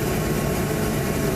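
Torpedo jet heater running after annual maintenance, a steady low roar of continuous combustion and fan noise heard close and alone for a brief moment.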